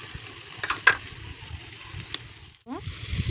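Egg paratha filling of onion and green chilli fries with cumin and coriander powder in a pan over a clay stove, a close, steady sizzle broken by a few sharp utensil clicks, with no talk.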